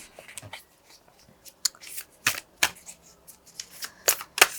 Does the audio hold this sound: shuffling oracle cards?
yes